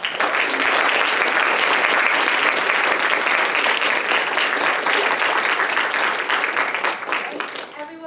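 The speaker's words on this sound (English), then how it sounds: "Give them a round of applause." Sustained audience applause closing an art and community panel discussion, a dense steady wash of many hands clapping for about eight seconds before thinning slightly at the end.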